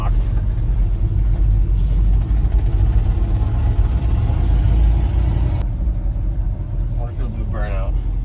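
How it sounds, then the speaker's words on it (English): A Ford F-100 pickup over 40 years old doing a burnout, with a loud, continuous deep engine roar and rumble throughout and a voice briefly heard near the end. "Burnout."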